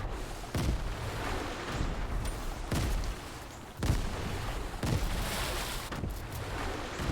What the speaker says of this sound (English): Bro, how many grenades this guy got?